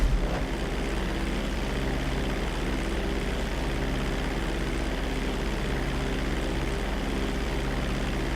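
Propeller airplane in flight during a GTA 5 flight-school lesson: a steady, droning engine roar that holds constant and fairly loud throughout with no break.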